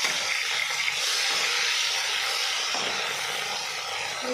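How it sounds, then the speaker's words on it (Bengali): Fish sizzle in hot oil in a pan as a continuous loud, steady frying hiss with no talk. "মাছগুলো ভাজা হচ্ছে বন্ধুরা।"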